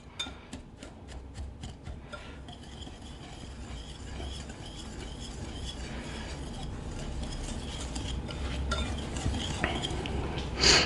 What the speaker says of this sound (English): get you a whisk like this, because that brown sugar kind of tries to clump together, and just kind of mix that together